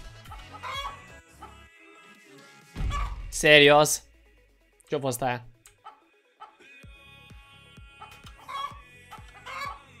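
A video-game chicken lets out two loud, sharp squawking outbursts between stretches of excited talking, with scattered clucks and clatter around them.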